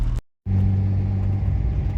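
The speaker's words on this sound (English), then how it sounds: "it's nice driving the turbo car with a quiet exhaust" Turbocharged BMW E36 sedan with a quiet exhaust while driving, a steady low engine drone and road rumble heard from inside, briefly cut out near the start before resuming evenly.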